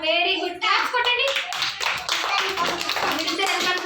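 A class of children claps together in a dense, lively burst of applause that runs steadily for a few seconds, with young voices and talk mixed in.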